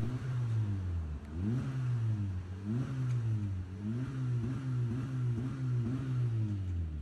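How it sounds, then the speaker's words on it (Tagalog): A Honda City RS with an HKS chambered muffler revs repeatedly in rising and falling sweeps, with a deep, growly exhaust rumble that stays steady and fairly close throughout. "Deeper at mas growly yung tunog"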